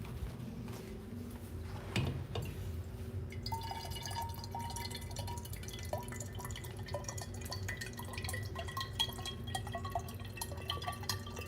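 Water trickling and dripping into a glass indoors, faint at first then a steady thin pour with small splashes and a clink near the start, fairly quiet, no voices.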